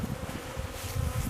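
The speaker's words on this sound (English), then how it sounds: "Here are my honeybees after the long, dark winter." Honeybees in a wrapped bee shelter in early spring after a long northern winter, giving off a steady, low, continuous hum of buzzing, close and fairly quiet throughout.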